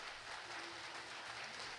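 Ceremony participants applaud warmly at a housing handover event, a steady even wash of clapping sustained throughout at moderate distance, with no talk.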